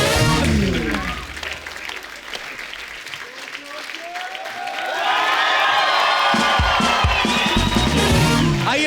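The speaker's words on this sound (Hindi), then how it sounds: "जोरदार तालियां एक बार धर्म पाजी के" A studio audience on a comedy talk show applauds and cheers loudly for a star guest, with sustained clapping, whoops and shouts swelling midway. A host's voice is briefly audible over the crowd.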